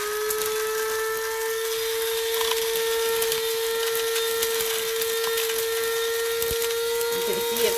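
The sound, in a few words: grinding vitamin C tablets in a grinder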